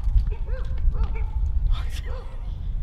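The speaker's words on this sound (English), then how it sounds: "the dogs are barking!" Several dogs bark and yip close by in a loud burst, their short calls overlapping above a steady low rumble, with voices mixed in.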